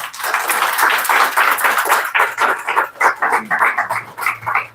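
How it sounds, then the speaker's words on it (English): An audience at a British Council event claps in sustained applause, a dense patter of many hands that thins into looser individual claps toward the end. "let's give her a round of applause."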